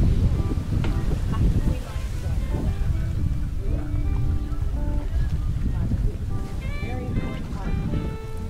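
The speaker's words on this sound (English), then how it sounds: "The wind." Wind buffets the microphone while sailing on Kentucky Lake, a loud continuous rumble and roar with water and boat noise, and people talk throughout.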